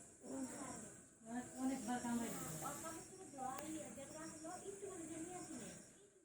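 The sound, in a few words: non-venomous snake hissing while biting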